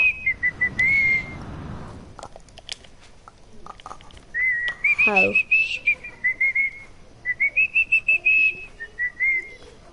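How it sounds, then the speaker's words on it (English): A person whistling in a Chapter 2 game session, clear high whistled notes near the mic, first a short phrase, then a longer run of repeated rising and falling notes, with brief talk in between. "stop whistling."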